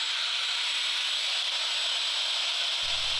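A steady, harsh grinding hiss of an abrasive cutoff wheel biting into a steel sledgehammer head, continuous and close, with a low rumble entering near the end.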